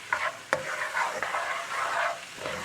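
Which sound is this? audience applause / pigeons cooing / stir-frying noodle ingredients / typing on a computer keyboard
stir-frying noodle ingredients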